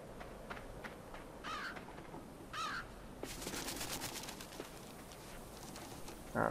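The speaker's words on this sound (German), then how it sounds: "Verjagen wir mal den kleinen Raben." A small raven in the video game LIMBO gives two short, harsh caws a second apart over a quiet, hissing game background, followed by faint rustling noise.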